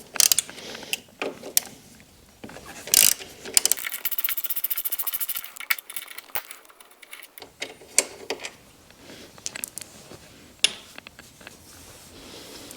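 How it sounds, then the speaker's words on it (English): Tools work two 5 mm bolts out of a bracket on a 2017 Kawasaki Versys motorcycle during an engine guard install, giving irregular ratcheting clicks, metallic clinks and short bursts of mechanical whirring close by. "I need to remove these two bolts up here from this bracket"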